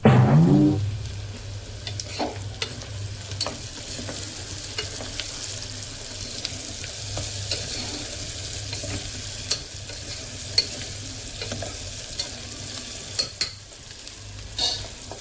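Onions frying in oil until brown for a Sunday mutton curry, opening with a sharp hiss as they hit the pan, then settling into a steady moderate sizzle with occasional stirring clatter, no talk.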